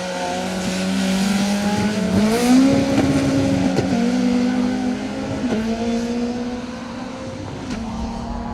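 A little 1600 Nova rally car chases and overtakes an MG ZR on a tarmac rally stage's back straight, engines howling loud and close with rising, shifting revs before fading slightly as they pass.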